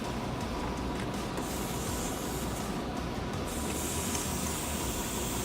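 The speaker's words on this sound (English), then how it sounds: "The compressor's already turned on." An ARB air compressor runs steadily while filling its tank, a continuous dense hiss and mechanical drone at moderate level with no breaks or talk.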